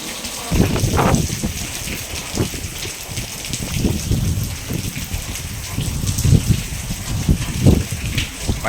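Heavy rain pours down in a constant, loud hiss, with dull low thumps and rumbles rising through the downpour.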